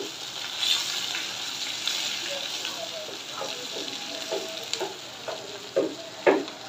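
Bata fish frying in hot mustard oil in a pan, a steady close sizzle with scattered bubbling crackles and a few sharper spits toward the end.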